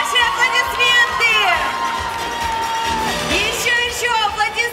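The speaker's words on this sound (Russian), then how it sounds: "Ваши аплодисменты!" Listeners cheer and whoop for the winner of a regional youth contest, loud crowd shouts and cheers rising over music with sung or held voices, swelling at the start and again near the end.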